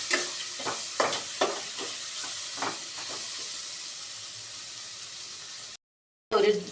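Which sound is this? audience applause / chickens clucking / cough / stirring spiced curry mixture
stirring spiced curry mixture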